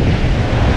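Surf and wind on a beach in the Dominican Republic make a loud, steady rumbling wash with heavy wind buffeting on the microphone, lasting only a moment.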